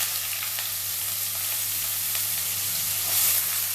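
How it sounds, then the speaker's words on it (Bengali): Chopped onion frying in oil for a moong dal and cucumber curry, a dense close hiss and sizzle that holds steady for a few seconds, with no voices over it. "পেঁয়াজটা একটু ভাজা ভাজা হয়ে যায়"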